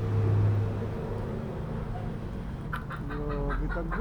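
A hen clucks noisily while searching for a place to lay her eggs, with repeated close, insistent clucks and squawks rising into a louder burst of calls near the end.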